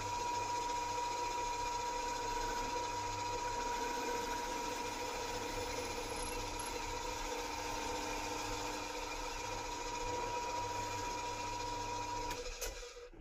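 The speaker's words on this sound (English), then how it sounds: "the battery drill and drill down, and hopefully I can get it exactly in the right place" Cordless battery drill boring holes into a wooden speaker stand: a steady, close whirring motor whine with a constant tonal hum held for over twelve seconds, stopping at the end.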